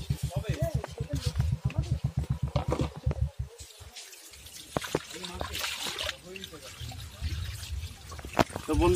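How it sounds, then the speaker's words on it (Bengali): Water from a 1-inch pipe pouring into a small fish tank, a splashing trickle that starts and stops, with someone talking over it. "তো বন্ধুরা দেখতে পাচ্ছেন আমি জলটা এখন ফেলছি"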